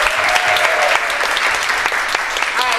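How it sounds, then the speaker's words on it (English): A brunch audience in New York gives loud, close applause for a panel of women, a dense burst of clapping with a few voices mixed in. "Let's give these girls a round of applause"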